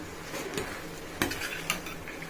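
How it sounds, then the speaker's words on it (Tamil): Sago upma with moong dal being stirred in a pan in a home kitchen, with soft scraping and clinking of the spoon against the pan at a steady pace, close and fairly quiet, with two slightly sharper knocks. "நல்லா கிளறி கொடுத்துக்கலாம்"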